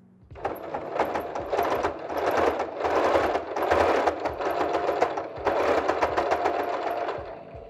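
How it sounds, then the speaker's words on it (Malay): A sewing machine runs a straight stitch through a batik fabric face mask, its rapid needle clatter coming in close, loud bursts separated by brief pauses. "Jenis jahitan yang kita gunakan adalah jahitan jahit lurus. Okey. Teruskan jahitan."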